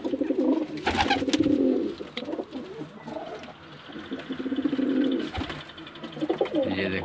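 A teddy pigeon coos close by in repeated rolling bursts, several deep throaty phrases with short pauses between, and faint handling noises around them.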